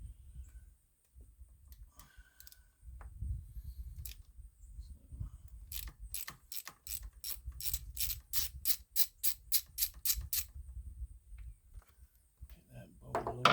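A hand ratchet works a long bolt loose on a 2014 Ford F150 during a water pump job, quiet scattered clicks that build into a quick even run of sharp ticks, with faint low rumble around it.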